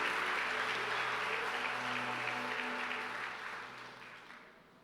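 Broad, steady applause from a large church congregation, holding strong for several seconds before gradually fading out.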